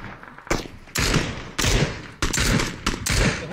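Several loud bursts of gunfire from PUBG, five or six heavy shots in uneven succession, each ringing out close and sharp with little talk over them.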